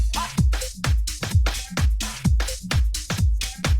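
Drum loop pulled by AI separation from a soulful house reference track: a punchy kick on every beat with crisp hats and snare accents, steady four-on-the-floor rhythm, close and alone.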